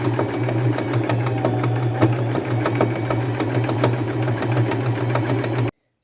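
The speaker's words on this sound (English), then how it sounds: "I will stop 1 inch above that piece so that I can still sew around the perimeter of the bottom of the jacket" A sewing machine stitches around the bottom hem of a thrifted jacket, running steadily with a close, loud mechanical whir and rapid needle clatter before cutting off abruptly.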